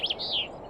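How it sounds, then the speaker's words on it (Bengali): A brief high chirp, then a short whistled note from a bird calling in the afternoon, clear and nearby. "বিকেলের পাখির ডাক"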